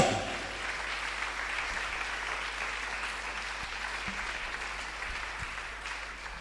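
A church congregation bursts into applause, a broad sustained clapping that stays fairly even before slowly easing off, with a few scattered thumps in the room.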